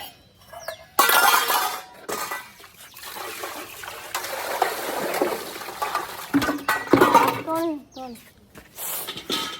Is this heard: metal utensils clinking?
yes